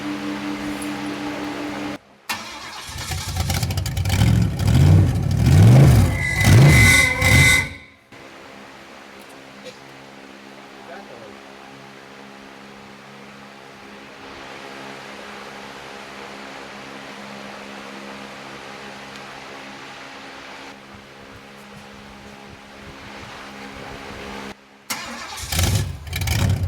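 A 1929 Ford Roadster barn find is started for the first time in 20 years, a loud rough burst of cranking and catching that runs about six seconds before cutting off, leaving a low steady hum, then another brief start attempt at the end.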